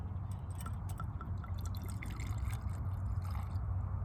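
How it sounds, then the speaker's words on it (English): Irish whiskey is poured from a bottle into a glass, a quiet continuous trickle with small drips and glugs over steady low background hum, no talk. "First time ever pouring Irish whiskey into a glass."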